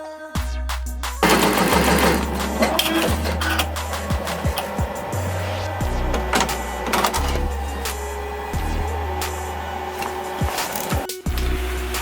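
An embroidery machine stitches a jacket with a rapid, rhythmic mechanical clatter and repeated low motor pulses. It is loud and close and runs continuously with brief shifts in pace.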